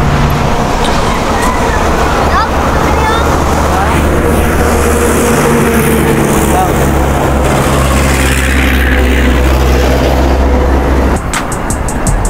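Motorcycle riding along a bypass road, a steady loud engine drone with road and wind roar and passing traffic throughout, ending in a brief rattling burst.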